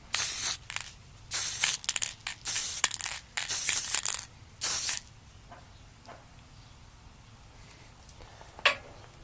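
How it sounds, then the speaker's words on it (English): Black primer hisses from a spray can aimed upward onto miniature figures, in a run of short, loud bursts followed by a quieter pause and one last brief spray. "So the black's going to represent the shadows, and now we're going to spray upward towards it."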